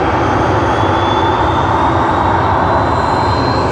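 A Qantas Airbus A330-300 airliner on the Singapore to Sydney service at Sydney Airport makes a loud, continuous engine roar with a thin steady whine on top.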